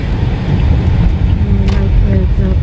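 Road traffic heard from inside a moving car in Dumaguete, with a steady low engine and tyre rumble throughout, loud and continuous, and a few faint higher tones passing near the end.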